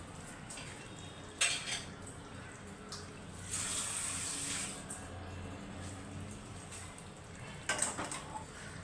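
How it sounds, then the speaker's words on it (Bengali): Hot water pours into a pan of pointed gourd curry, a soft splash and trickle lasting about two seconds between quiet clinks of a utensil against the pot. "এখন আমি এর সঙ্গে অল্প একটু গরম জল অ্যাড করব"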